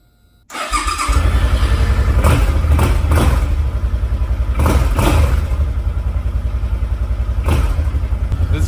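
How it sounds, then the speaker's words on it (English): A Suzuki Boulevard C50T touring motorcycle fires up with a sudden start and settles into a loud, close, lumpy idle with a steady thumping rhythm and occasional revs. "start her up, let the battery charge for a few minutes, let the motor run"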